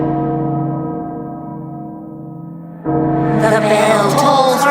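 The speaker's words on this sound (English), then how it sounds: "The bell tolls for us all." Castle bell tolling in the Resident Evil Village video game trailer, a deep sustained ringing hum that fades, then a louder struck toll with bright shimmering overtones, no speech.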